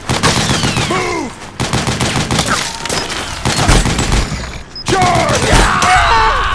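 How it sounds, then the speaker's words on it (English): Dense bursts of rapid automatic gunfire and sustained fusillades in a Metal Gear Solid 4 battle, loud and continuous with brief gaps, mixed with mechanical clatter and shouted voices. "Suppressing fire!"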